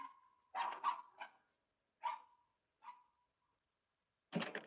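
Several short barks from a dog, loud and fairly close, coming in bursts with gaps between them and no talk over them.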